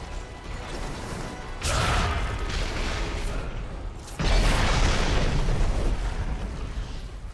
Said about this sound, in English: Cannons on the way!